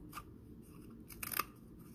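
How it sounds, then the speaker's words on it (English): Scissors snip through a paper roll for a hair puppet, a couple of quick close cuts clustered near the end, with a faint snip earlier and a quiet room otherwise. "So we're just going to snip at the top with some nice big snips"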